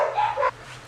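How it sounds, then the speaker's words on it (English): Dogs bark indoors at home, giving a quick pair of sharp, close yips and barks that stop abruptly within a second. "I'm sorry if you can hear my dogs barking."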